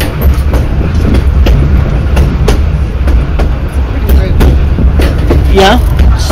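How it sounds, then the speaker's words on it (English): A nearby train rolls steadily past with a loud, continuous rumble and rhythmic clickety-clack of wheels over rail joints, punctuated by sharp metallic clicks, while people talk faintly underneath. "the train's on your side right now"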